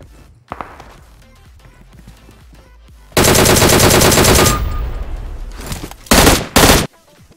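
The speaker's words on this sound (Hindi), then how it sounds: "तो यार जैसे ही मैं गन वन लूटता हूँ तभी में मुझे आगे से गोलियां चलने की आवाज आती है" PUBG Mobile gunfire: after a few faint taps, a long loud burst of automatic fire rattles for over a second, then trails off, followed by two short sharp volleys near the end, all without speech.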